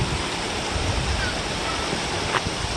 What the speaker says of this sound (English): This river is really running good this year.